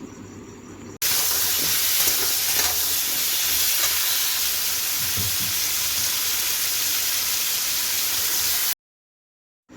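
Diced potatoes with salt and turmeric fry in a covered pan, giving a loud, steady sizzle and hiss that starts abruptly and runs unbroken before cutting off near the end.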